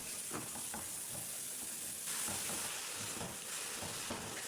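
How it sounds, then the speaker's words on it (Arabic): Chopped onions and peppers sizzle steadily in a little oil in a pan while a spoon stirs them, giving occasional scraping strokes over the constant frying hiss, close up. "حطينا البصل والفليفلة وشوية زيت ونقلبهم مع بعض."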